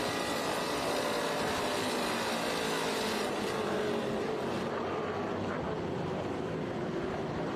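TA2 race cars at Mid-Ohio, a dense roar of loud engines sweeping past close by, with a high engine note fading away near the end.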